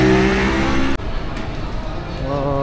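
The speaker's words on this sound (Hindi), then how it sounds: "और यहाँ पे फुल ट्रैफिक है" Heavy street traffic in Port Louis rumbles steadily as loud, continuous engine noise, with passing vehicles and a sudden shift partway through.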